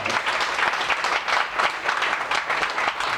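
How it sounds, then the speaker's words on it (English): Dense applause from a crowd for two sets of performers, including a tenor group, at an event, heard as a continuous close roar of many hands clapping for about three seconds. "Let's give them another round of applause."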